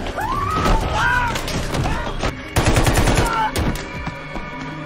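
Dense gunfire from an action film shootout, with rapid bursts of shots and heavy thuds layered over music and effects, loud and continuous throughout.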